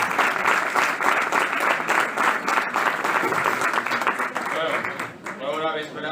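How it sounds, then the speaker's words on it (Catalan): A crowd claps warmly at a Falla book presentation in Valencia, a dense, even round of applause that thins slightly toward the end as a voice begins to speak. "Un fort aplaudiment per a ell, per favor"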